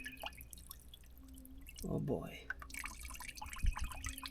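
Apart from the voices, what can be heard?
water dripping from drained Kubota tractor radiator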